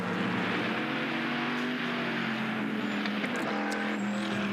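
A historic race car at Dijon for the Le Mans Classic drones loudly and steadily as it overtakes, a sustained engine note with faint higher whines near the end, no speech.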